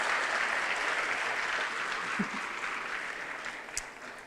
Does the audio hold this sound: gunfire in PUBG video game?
no